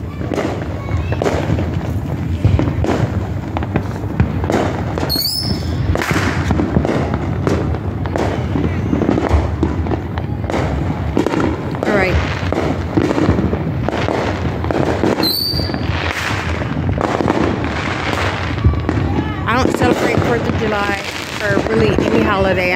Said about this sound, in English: everybody who does fireworks normally have a final finale